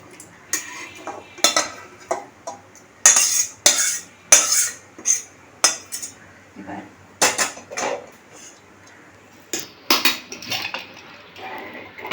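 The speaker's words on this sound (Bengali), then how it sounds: "পুরো মাটনটাকে দিয়ে দেব প্রেশার কুকারে" Clanking metal pot and utensil sounds, irregular knocks and scrapes as mutton is moved into a pressure cooker, with faint talk in the background.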